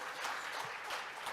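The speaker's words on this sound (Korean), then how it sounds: "박수 한번 부탁합니다." A seminar audience in a hall applauds after a performance, a soft, even wash of distant clapping with no talk over it.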